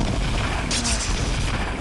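Corpse explosion spell going off in a mage video game, a short muffled boom with a bright crackling burst amid dense game noise.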